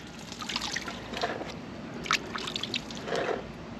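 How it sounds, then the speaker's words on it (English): Handfuls of water wash material out of a gold pan, giving soft, intermittent trickles and light splashes at close range, alone without speech. "you take a handful of water and you just slowly finesse the material out."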